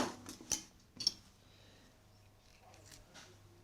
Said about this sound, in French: Je tasse légèrement avec la petite cuillère